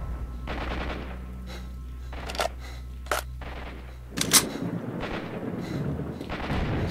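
Several sharp, separate gunshots ring out in STALKER: Shadow of Chernobyl, spaced a second or so apart over a low, steady ambient hum, with the last crack the loudest.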